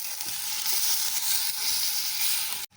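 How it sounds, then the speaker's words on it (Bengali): Ground spices sizzle and fry in a pan with a splash of water for a Bengali egg and lentil dhokar dalna, a steady close hiss broken by faint stirring until it cuts off abruptly. "এবার খুব ভালো করে নাড়াচাড়া করে কষিয়ে নিতে হবে।"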